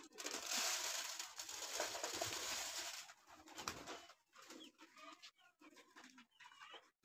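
Pet pigeons coo and cluck nearby while grain is scattered for them. The rustling and bird calls are fairly faint, with intermittent soft noises.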